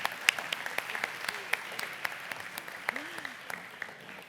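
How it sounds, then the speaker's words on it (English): Conference audience applause at a transportation technology event: scattered, fairly sparse claps with distinct individual hits, moderately near, with a few murmured voices underneath. "Could we have a round of applause, please,"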